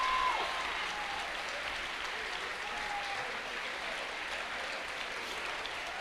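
Applause fills a church during a Wednesday evening service as the congregation claps in a continuous, even roar that stays steady and moderately distant throughout, with a few faint voices mixed in.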